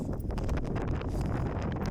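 Strong wind sweeps across a cliff viewing platform on the Great Australian Bight, a continuous low buffeting roar against the microphone.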